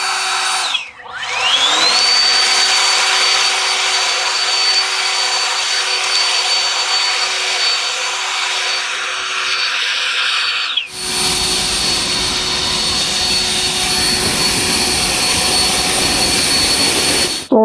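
A cordless brushless electric leaf blower rated at 500 CFM spins up and roars steadily on turbo with a high whine. The whine drops out briefly and the airflow rushes back, loud and close, with no talking.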